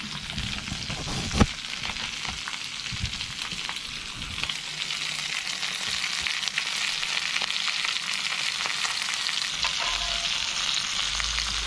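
Spearfish sizzles in oil on a BBQ, a steady crackling hiss that holds throughout with a few louder pops and spits up close.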